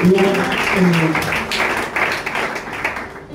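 A church congregation applauds in a broad, steady wash of clapping, with voices raised over it and the sound thinning out toward the end.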